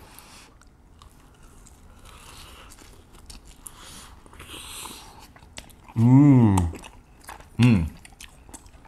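Air-fried cheese mochi being bitten and chewed close to the mouth, soft sticky chewing and a few crunchy bites, quiet at first, then broken by two loud, drawn-out hums of enjoyment.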